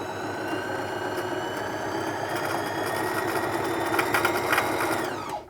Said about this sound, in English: that rattly noise, that's just a dry hook